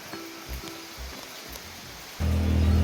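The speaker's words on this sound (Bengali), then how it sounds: "আবার বৃষ্টি নেমে গেছে" Steady rain pattering close by in the Darjeeling hills at Dhotrey, soft at first, then swelling into a heavier, louder downpour near the end.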